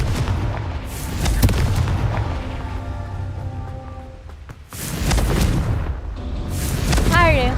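Spell impacts from the Confringo explosive curse in Hogwarts Legacy, with booming blasts near the start and again around the middle, over game music with tones and a swirling magical whoosh toward the end.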